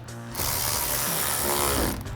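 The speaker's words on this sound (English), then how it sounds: "grab our ratchet and T15 socket, and screw in our 2 screws here" A ratchet with a T15 socket drives two screws into a Corvette C7 wheel well trim, a steady close mechanical clicking and whirring that runs continuously for about two seconds with no talk.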